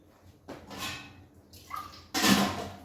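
Water from a glass is poured into a pan of simmering mater paneer, a North Indian peas-and-paneer curry, in two close splashing pours separated by a short quiet stretch.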